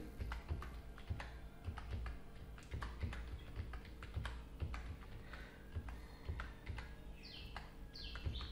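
Keys clatter on a computer keyboard in quiet, steady bursts as someone fills in a college admission form, with a few faint chirps near the end.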